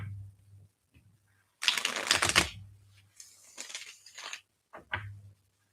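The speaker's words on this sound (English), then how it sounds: "Let's shuffle." Tarot cards shuffled by hand in quick riffling bursts, three papery flurries of fluttering card edges with short pauses between them, close and moderately loud, no talking.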